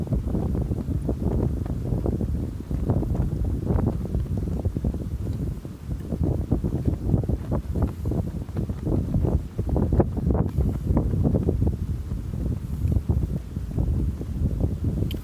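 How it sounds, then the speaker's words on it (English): Strong, gusty wind on open water during a kayak fishing outing, a loud continuous roar buffeting the microphone for the whole stretch, with no voices. "But these winds, like, I knew it's going to keep intensifying throughout the day."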